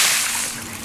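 Water splashes loudly into a pool as a person jumps in, a broad hissing burst that starts strong and slowly fades.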